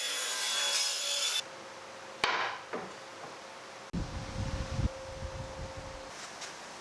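A saw cutting wood on a miter sled, a loud whining cut that stops abruptly, followed by a sharp knock and then a few seconds of rough rubbing and scraping on the wood.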